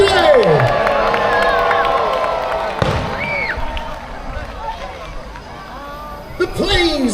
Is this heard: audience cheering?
yes